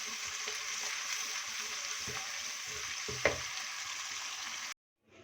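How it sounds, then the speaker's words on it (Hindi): A yogurt masala for fish karahi fries and is stirred in a pan, a steady bright sizzle with a few spoon scrapes, cutting off abruptly near the end. "और इसकी करेंगे थोड़ी सी भुनाई।"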